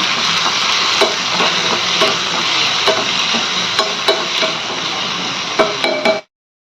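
Rice with salt stirred in a pan, a steady close sizzle broken by repeated scraping and clinking strokes of the spoon, with no talk, ending abruptly.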